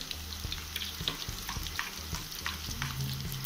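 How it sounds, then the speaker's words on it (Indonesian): Garlic frying in a pan, sizzling and crackling steadily while a utensil stirs and scrapes it in short, repeated strokes, close and moderately loud with no talk. "lalu goreng bawang putih"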